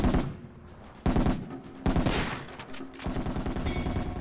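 Sniper rifle fire in the Project Reality combat game: four loud, sharp shots spaced about a second apart, each followed by a rolling echo tail, with no talking.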